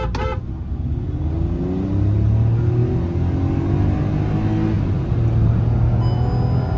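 A Hyundai i20 N Line in sport mode accelerates hard in second gear, its engine note climbing steadily up through the revs, with a brief shift and then a renewed rising pull.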